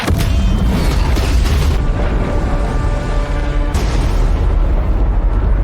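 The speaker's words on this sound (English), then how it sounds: "the resulting explosion was large enough that the entire underground room was affected by the explosion" A loud bomb explosion in an underground room gives a deep, sustained rumbling roar, with a second heavy blast bursting in partway through, dense and close throughout.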